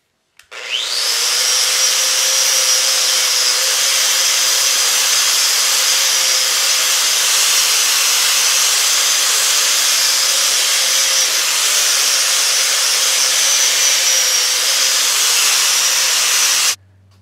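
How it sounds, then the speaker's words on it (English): A wire wheel grinds zinc plating off shiny new steel bolts, a steady loud abrasive hiss with a high whine that runs continuously for about sixteen seconds before cutting off. "what I do is I just kind of bear down on it with a wire wheel, and it knocks most of that zinc off the top"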